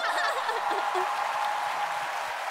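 A studio audience at a KBS live music show claps steadily for the full moment, a dense rattle of hands with a few faint cheers and tones mixed in.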